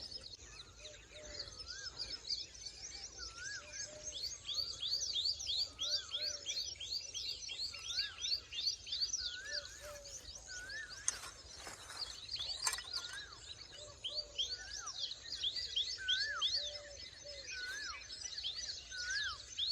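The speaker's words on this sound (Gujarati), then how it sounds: "કોયલ બોલે છેટે છેટે" An Asian koel and other birds call around a village near Botad, with dense overlapping chirps and repeated rising whistles continuing steadily over twenty seconds, moderately near.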